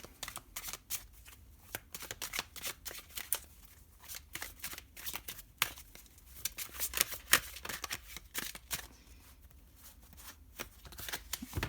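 Tarot cards are shuffled close by in a continuous papery riffle, with rapid flutters and slaps that swell and fade irregularly and no voice over them.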